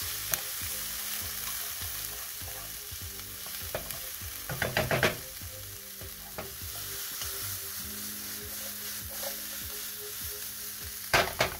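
Onions frying and sizzling in an oiled pan, a steady crackling hiss broken by scraping stirs and a few louder clatters, with no voices.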